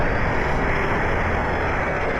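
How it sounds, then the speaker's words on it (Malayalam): A loud, steady rotor-and-engine roar from a helicopter in an Indian bike driving video game fills the whole moment without pause. "മറ്റേ ഹെലികോപ്റ്റർ വീണ്ടും വരുന്നതാ"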